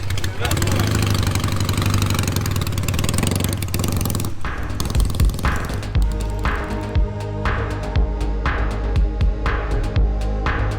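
Motorcycle engine running nearby, loud and rough for the first few seconds, then settling to a lower throbbing idle as people talk over it.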